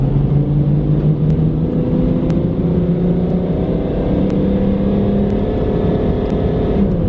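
A tuned car engine holds steady under load on a dynamometer, a loud continuous drone that slowly climbs in pitch as the revs rise, with faint ticking clicks over the top and no voices.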